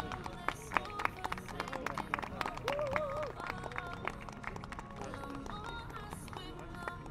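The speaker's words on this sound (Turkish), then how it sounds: "And applause for each dog." Audience applause rolls through an indoor international dog show in Istanbul as dogs are led out one breed at a time, dense steady clapping with a crowd murmur, while an announcer's voice keeps talking over it.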